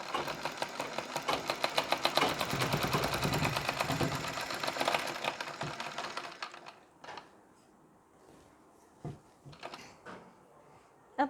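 Sewing machine stitching a Nauvari saree, running in a fast steady rapid-fire clatter for about six seconds, then stopping, followed by a few scattered handling knocks and clicks in near silence.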